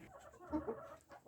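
A rooster gives a few soft, low clucks, faint and close, in an otherwise quiet space.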